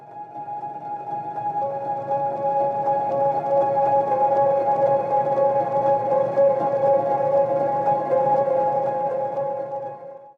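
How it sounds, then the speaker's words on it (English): Piano, a Leco by Felt Instruments, sent into a Valhalla modulating reverb, giving a washed, droning sustained tone with a steady wavering upper line that swells and holds for about ten seconds, alone. "The first one is a piano into a reverb."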